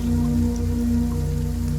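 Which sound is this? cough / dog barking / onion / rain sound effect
rain sound effect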